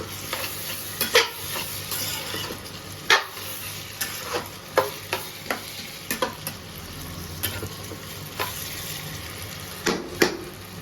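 Onions and spices frying in a pan while being stirred, a continuous close sizzle broken by repeated scraping and knocking strokes of a spoon against the pan.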